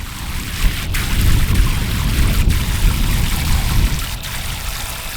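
Hot water runs steadily from a tap in a woodland camp setting, a continuous close splashing trickle with a few brief breaks, no talking over it.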